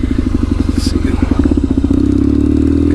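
KZ750 scrambler motorcycle ridden over light off-road ground, its engine loud and close with a pulsing beat that rises in pitch as it accelerates, with wind and rattles over the top.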